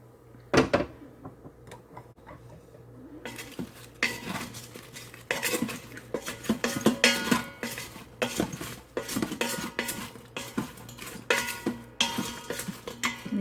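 Roasted potatoes being stirred in an Instant Pot with the air fryer lid, utensils clinking and scraping against the metal pot in repeated irregular bursts, close and fairly loud, with no talking.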